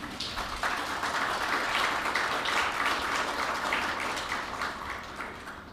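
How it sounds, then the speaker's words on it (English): Steady, moderately faint applause fills a hall at the opening ceremony of a Caribbean seasonal agricultural workers program, a continuous wash of many hands clapping without breaks. "all of us here should give them a round of applause"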